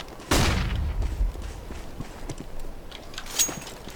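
In a video game, a flashbang grenade goes off with one sharp, loud burst near the start, followed by a fading rumble and a few faint clicks and taps.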